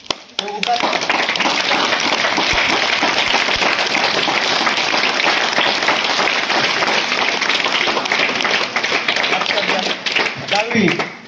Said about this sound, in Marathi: टाळ्या नका वाजू